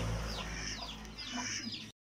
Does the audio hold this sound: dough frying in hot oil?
no